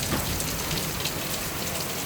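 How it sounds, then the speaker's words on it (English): Heavy rain pours steadily during a thunderstorm, a dense, continuous hiss of water pounding surfaces nearby with no distinct thunder clap, loud and unbroken throughout. "you're looking at probably 3 inches of rain in the last 30 minutes"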